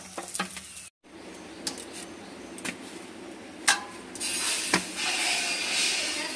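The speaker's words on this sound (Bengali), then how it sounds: "পরোটার মধ্যে ভালোভাবে ভাজা হয়ে গেছে পুরোটা ভালোভাবে" A paratha fries in a pan with a soft, continuous sizzle, broken by a few sharp clicks and scrapes of a utensil against the pan.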